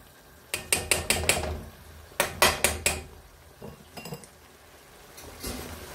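Metal spoon clinks and scrapes in a pan while potatoes are stirred and mashed for dosa masala filling, coming in quick bursts of four or five sharp clatters with pauses between, close and fairly quiet.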